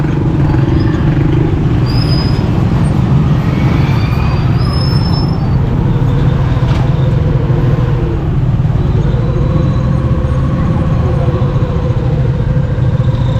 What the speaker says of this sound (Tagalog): Traffic na guys, traffic.